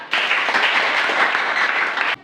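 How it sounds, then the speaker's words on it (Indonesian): A classroom of students claps together during a civics lesson, a dense, even burst of applause lasting about two seconds that starts and stops sharply, close and fairly loud. "Tepuk tangan."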